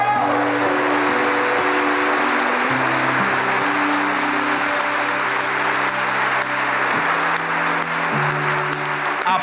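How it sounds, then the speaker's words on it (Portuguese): A church audience gives sustained, loud, dense applause that runs continuously throughout, with a low sustained musical tone underneath and no clear talk. "Aplausos"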